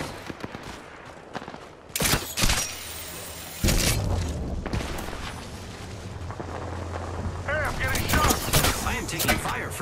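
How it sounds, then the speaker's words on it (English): Apex Legends gunfire in a heated fight: loud bursts of automatic fire, heavy booms and blasts that build into sustained close-range shooting, with a voice speaking briefly in the mix. "Taking fire, friends"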